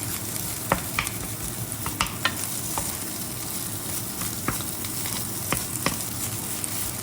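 Rice stir-fried in a pan for bacon fried rice gives a steady, close sizzle, broken by sharp, scattered clicks and scrapes from the stirring utensil.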